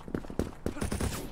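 Rapid bursts of gunfire from the online shooter game Krunker, several sharp shots in quick succession, loud and close, with no talk over them.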